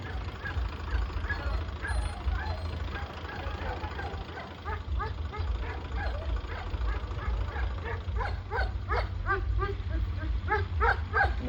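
Dogs barking and yipping in quick bursts, growing busier toward the end, over a steady low rumble and some background voices.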